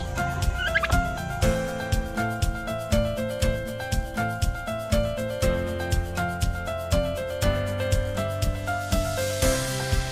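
A turkey at an animal park gobbles in rapid, repeated bursts over a steady background of music-like tones, fairly faint and continuous throughout.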